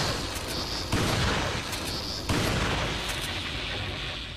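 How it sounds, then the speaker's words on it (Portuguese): Two sharp gunshot blasts from Resident Evil 4 on the Wii ring out about a second apart, each followed by a decaying roar, over a dense noisy background. "Quatro tiros, cara."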